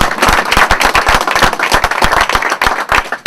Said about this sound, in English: Clap your hands if you're glad you woke up this morning.